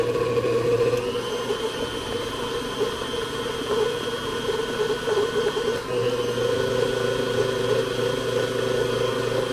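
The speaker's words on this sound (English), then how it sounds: "My mixer does not sound so healthy today." A kitchen stand mixer runs steadily and loudly, its motor drone sounding strained, while making cinnamon rolls.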